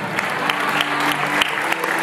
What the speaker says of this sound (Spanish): Denle el aplauso, Julián, por supuesto, Julián.